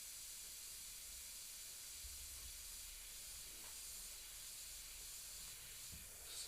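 An airbrush hisses steadily as it sprays paint, softening stencil edges on a Cad Bane figure, a faint continuous airy spray running throughout with small shifts in intensity.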